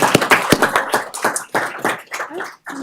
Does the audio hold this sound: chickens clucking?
no